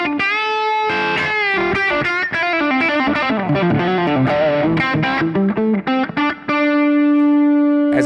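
Electric guitar played through a Fractal amp model dialed for a particular tone, with flowing distorted lead lines and sustained chords, loud and close, ending on a long held note with no talking.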